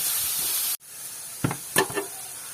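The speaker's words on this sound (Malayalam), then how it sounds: "നമുക്ക് നന്നായിട്ട് വാട്ടിയെടുക്കാം കേട്ടോ" Onions sautéed in a pan hiss loudly for a moment, then the sound cuts off abruptly, followed by a few short scraping stirs against the pan in a quieter setting.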